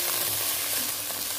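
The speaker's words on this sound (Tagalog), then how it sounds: "iprito ko muna siya para dumagdag lasa sa ating sabaw" A fish head frying in hot oil for a tom yum soup base gives a steady, close, bright sizzle and crackle that carries without a break.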